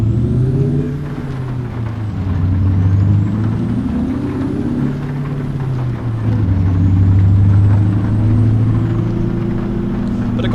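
A truck engine in American Truck Simulator drones loudly and steadily, its pitch rising and falling as it revs through gears, with a thin hiss overhead and no voices.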